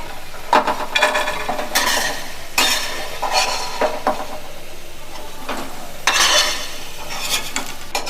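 Crispy fried potatoes scooped out of a pan of hot oil, with repeated scraping and clinking strokes of a utensil against the metal pan over a soft background sizzle.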